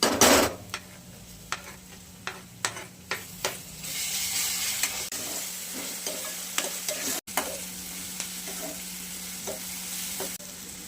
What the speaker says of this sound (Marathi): फक्त तळला आहे हा कांदा आपण ह्याच्यात टोमॅटो टाकून घेऊयात